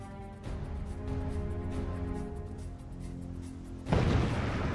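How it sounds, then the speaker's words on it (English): A low rumbling drone with tonal hum builds steadily, then a sudden loud burst of noise erupts near the end, like a distant blast: the explosion of the reactor number three building at Fukushima. "an even larger explosion blows the building that houses reactor number three apart"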